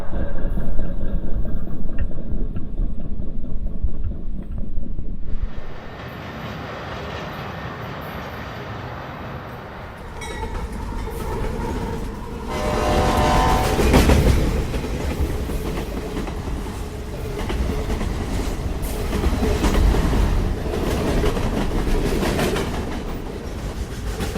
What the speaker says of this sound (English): The only problem about recording over here is you always have trains.